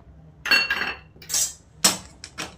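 Cashew almond modak mixture with milk powder stirred quickly in a pan, giving a few bright metallic scrapes and clinks of the spoon against the pan in short bursts.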